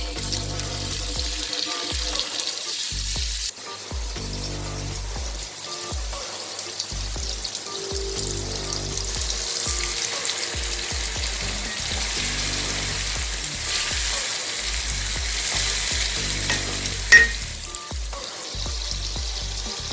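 Onions sizzle steadily in hot oil with tomatoes and chopped chillies added for an aloo baingan masala, a close, continuous frying crackle with occasional stirring and clatter, no voices.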